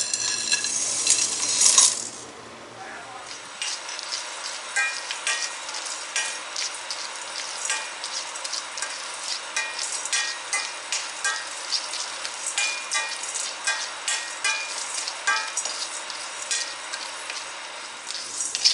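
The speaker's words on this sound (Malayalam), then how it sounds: "പാൻ ചൂടായതിനു ശേഷം നമ്മൾ എടുത്തു വെച്ചിരുന്ന സ്പൈസസ് ഇതിലേക്ക് ഇട്ട് കൊടുക്കാം" Whole spices for Thalassery biryani masala dry roasting in a hot pan over medium flame, with a clattering pour at first, then repeated rattling stirs and a steady light crackle, close and continuous.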